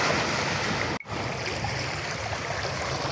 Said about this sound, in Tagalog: Dito ang maririnig mo lang, ingay lang ng dagat, tsaka hampas ng alon